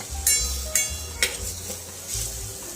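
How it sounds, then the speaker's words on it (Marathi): Spice paste for buttermilk kadhi frying in a pan until crisp, with a steady low sizzle and a few sharp clinks of a spoon against the pan and no talk. "ही पेस्ट अशी छान क्रिस्पी होईपर्यंत तळून घ्या, म्हणजे कढीला छान टेस्ट येईल।"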